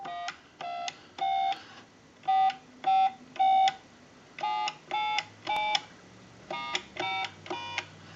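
A steady dial tone from a Western Electric 317 wooden wall telephone, then a series of touch-tone beeps dialed one after another in short, evenly paced bursts, clear and close.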